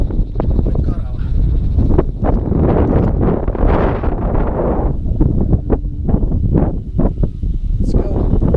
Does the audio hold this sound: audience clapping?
no